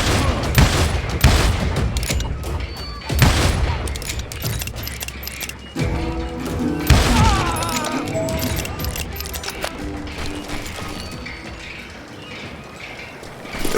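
Gunfight in the Western video game Call of Juarez Gunslinger, with dense bursts of gunfire and impacts through the opening seconds, then continuing shots under game music and ambience, fairly loud throughout.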